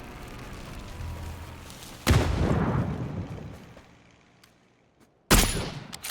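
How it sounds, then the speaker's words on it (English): Blue zone bombing in PUBG: two heavy booming explosions a few seconds apart, each a sudden loud blast with a rumbling decay, the first fading slowly before the second hits. "That sounds like a blue zone bomb."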